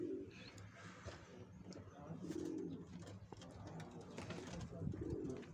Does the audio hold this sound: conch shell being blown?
no